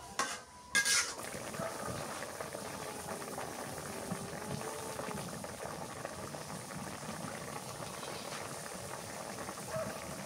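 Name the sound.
sea fish curry simmering and being stirred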